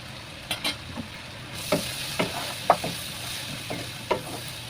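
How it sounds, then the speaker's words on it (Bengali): Cabbage with chicken bones and turmeric stirred in a pan, giving a run of separate scrapes and clinks over a faint steady sizzle, moderately close, with no voices. "আবারও নাড়াচাড়া করে নিয়েছি।"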